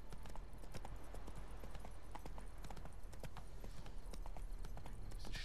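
A horse gallops in The Witcher 3, its hooves beating a quick, steady clip-clop rhythm over a constant low rumble of ambience, close and sustained throughout.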